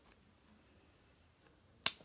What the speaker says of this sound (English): I'm going to take the wire and I'm going to cut it with my scissors